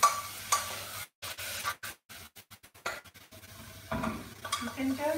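Tadka sizzles in a pan as a spoon stirs it, giving soft scraping strokes and light metallic clinks against the pan over a low frying hiss, close and at moderate volume.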